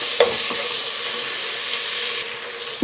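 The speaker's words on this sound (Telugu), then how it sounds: "కొంచెం పుదీనా కొత్తిమీర ఇవన్నీ వేసి బాగా కలుపుకుందాం" Egg biryani with mint and coriander being stirred in a pan, with a steady sizzle and hiss and a few spoon scrapes and knocks near the start and end, close and alone.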